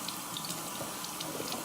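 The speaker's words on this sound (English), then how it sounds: "all I do for this is I let a little bit of warm water run." Warm water runs steadily from a sink tap, a constant close hiss and splash with no voices, while makeup brushes and a sponge wait to be rinsed.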